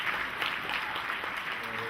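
Audience applause at a Dragon*Con fan convention panel, a steady wash of clapping from a large crowd filling the room, fairly loud and sustained throughout with faint voices mixed in.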